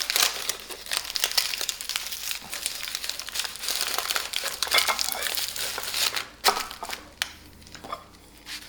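A wrap for homemade sushi is folded by hand, giving close, continuous crinkling and rustling that breaks into a few louder crackles toward the end.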